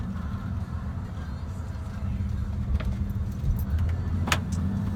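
A 2009 Honda Accord EX-L V6 coupe pulls out of a driveway with a low, steady engine rumble heard from inside, joined by a brief jingle of keys partway through.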